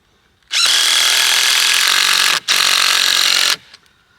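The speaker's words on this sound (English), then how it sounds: "I need to cut these front stakes to hold the next timber" A power tool cuts through timber stakes in two loud whining bursts, one of about two seconds and a shorter one after a brief pause, with quiet before and after.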